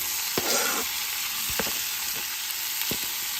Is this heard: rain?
no